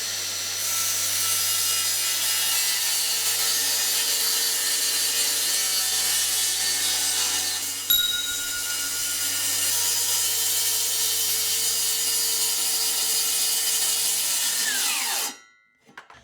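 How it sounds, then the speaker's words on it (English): A circular saw rips through a maple plywood sheet along a straight edge guide, a loud sustained whining cut with a steady motor drone, one short hitch midway, then spins down abruptly and stops. "I'm just going to be using a skill saw and my straight edge guide to do that"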